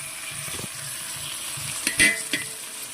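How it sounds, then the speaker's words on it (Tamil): Mint and coriander leaves sauté in hot oil for Ambur-style mutton biryani, a steady sizzle broken by a few close stirring scrapes and a brief louder clatter near the end. "நல்லா வதக்கிக்கலாம்."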